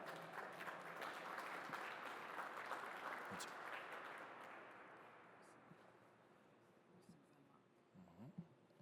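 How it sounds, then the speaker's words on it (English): Audience applause at a data center topping-out ceremony, a dense patter of clapping that swells at first, then thins and fades toward the end, with a few scattered claps and faint murmurs. "Let's welcome her with an applause."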